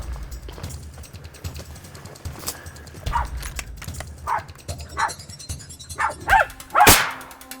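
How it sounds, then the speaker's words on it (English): A blood tracking dog on a track barks in several sharp, irregular bursts that grow louder toward the end, mixed with rustling footsteps and movement outdoors on an African hunting safari. "use a blood tracking dog, and we're gonna get onto him"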